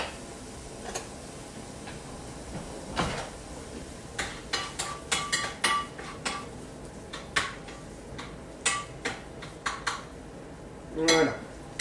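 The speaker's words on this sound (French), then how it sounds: "je vais d'abord aller remuer un peu mes oignons" Onions are stirred in a wok, heard as faint, scattered metallic clinks and scrapes that arrive irregularly over quiet background noise.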